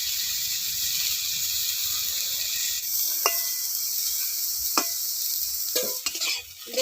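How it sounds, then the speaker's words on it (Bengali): Brinjal (eggplant) slices frying to a reddish brown in a pan, a steady close sizzle broken by several sharp scrapes and clinks of a spatula stirring, with no talking. "বেগুনগুলোকে আমি লাল করে ভেজে নেব।"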